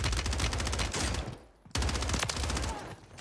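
STB 556 assault rifle fire in Warzone rattles in rapid, close automatic bursts with a short pause midway before the shots resume, with faint talk beneath.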